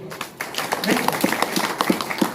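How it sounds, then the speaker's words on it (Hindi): Clapping from an audience at a town hall speech in Banka, Bihar, scattered and fairly sparse, with distinct individual claps that come in an uneven rhythm for a couple of seconds. "जोरदार ताली बजेगी"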